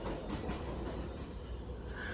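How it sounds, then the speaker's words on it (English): A New York City subway train on the 7 line pulls out of an elevated station, a steady loud rumble of wheels and cars with faint squeal, continuous throughout with no talk. "Got a train that's leaving, and we got a train right behind it."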